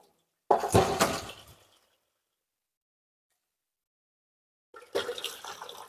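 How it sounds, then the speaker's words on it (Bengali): Water splashing and clattering as plates and bowls are rinsed, one loud burst of washing sounds followed by quiet, then a second burst near the end, close by with no talking. "থালবাটিগুলো জলতে ধুয়ে ফেলছি"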